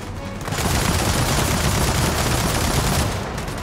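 Dense, continuous enemy gunfire in Gears of War 4 pours out as a loud unbroken barrage of overlapping shots for several seconds, tapering slightly at the end.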